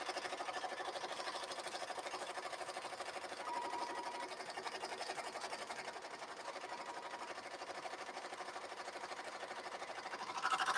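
A sewing machine stitching letters runs at a steady, even whir with a fast mechanical rattle, close and continuous, rising slightly in loudness at the very end.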